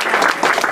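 Audience clapping for city council members at a port ceremony, a brief dense burst of applause from a crowd, loud and close.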